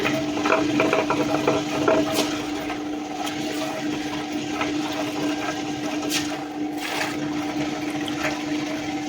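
Wet grinder churning soaked ration rice with water for idli and dosa batter, a steady low motor hum and continuous sloshing grind throughout, close and even in level, with no talking.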